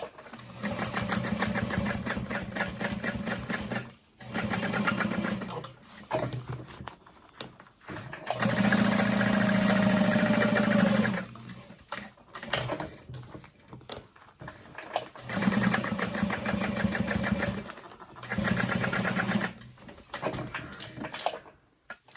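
A sewing machine stitches a basting seam across fabric panels for a cross-body sling bag, running in steady whirring bursts with short pauses between them, close and fairly loud.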